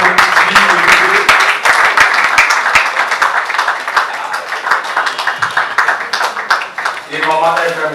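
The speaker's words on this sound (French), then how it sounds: "On applaudit très fort pour une petite fille, le bébé" An audience at a French academic book launch ceremony claps hard for a baby girl, brisk, loud applause that thins slightly before a voice speaks over it near the end.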